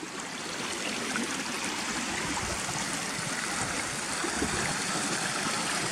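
A stream pouring down from waterfalls along a track, a steady, dense rush of flowing water, close and continuous, with no voices over it.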